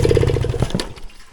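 A vintage Kawasaki KV75 mini bike engine sputters as someone tries to get it running, a rough stuttering putter that fades and dies within a second, ending in near quiet.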